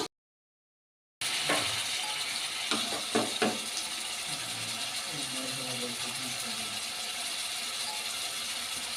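Tomatoes frying and being stirred in a pan for restaurant-style pakodi curry, with a steady sizzle and a few sharp utensil scrapes and clicks near the start, after a moment of silence.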